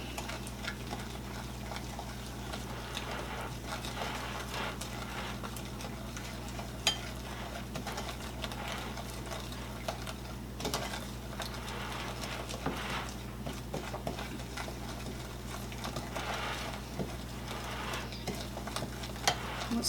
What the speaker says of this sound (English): we are just going to mix all this in here too